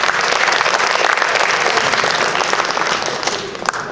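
Audience applause fills the hall after a student's research presentation at an academic forum, a dense, steady wash of many hands clapping at close range that tapers slightly toward the end, with no talking.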